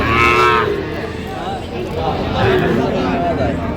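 Young bull calves at a rural cattle market low loudly and close by, once at the start and again a couple of seconds later. Crowd voices and chatter carry on underneath throughout.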